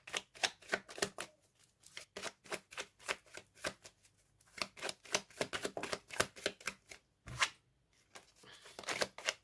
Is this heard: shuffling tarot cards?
yes